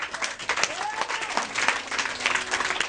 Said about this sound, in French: Si tu crois, acclame ton Seigneur.